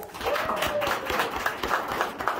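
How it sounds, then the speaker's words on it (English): A cave tour group claps together, a brisk scattered patter of many hands close by, fairly loud in an enclosed space, with a faint voice underneath. "can I get an even louder round of applause for you"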